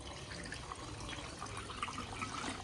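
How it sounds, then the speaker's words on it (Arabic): Water steadily poured into a pot of stuffed zucchini held down by a plate, a continuous broadband rushing and splashing fill without pause, close and fairly quiet. "هلأ منجيب مي ومنضيفه عليه"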